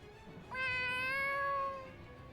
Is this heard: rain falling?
no